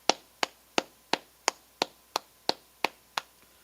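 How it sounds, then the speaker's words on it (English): Single pairs of hands clapping at a Sabbath religious service, ten sharp evenly spaced claps in a steady slow beat, close and clear against a quiet room. "So let's clap it up."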